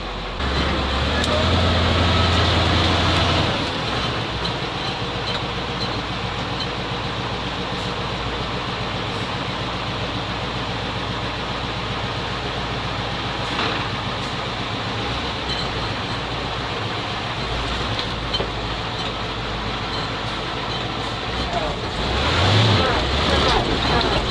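A ZIL truck driving off through rough ground, a loud continuous engine drone and rumble with low strain and clattering, constant throughout with a voice talking over it.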